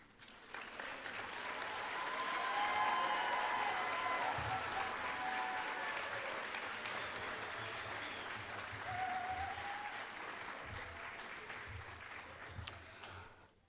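Sustained audience applause at a white coat ceremony for a medical class in Great Falls, Montana, a dense wash of many hands clapping that swells early, holds steady and fades near the end, with faint crowd murmur.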